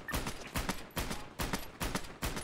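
Automatic gunfire strafes in a GTA roleplay jailbreak, six loud evenly spaced bursts of rapid shots filling the whole clip with no talk.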